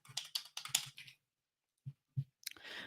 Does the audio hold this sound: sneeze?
no